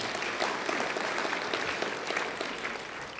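An audience at a university event breaks into sustained applause, a thick, even wash of many hands clapping that holds steady and then eases slightly toward the end, with no voices over it.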